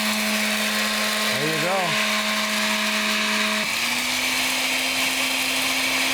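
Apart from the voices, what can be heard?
blender grinding coriander and cumin seeds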